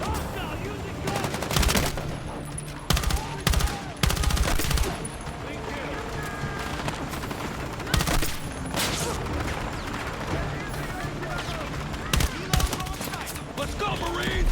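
Gunfire rings out in the Battlefield 6 prologue: repeated loud bursts of automatic fire and single shots crack over a continuous battle din, some near and some farther off, with occasional voices in the mix.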